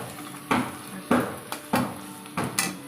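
Onions fry in a pan while a spatula knocks and scrapes against it in about five evenly spaced strokes, over a faint background sizzle.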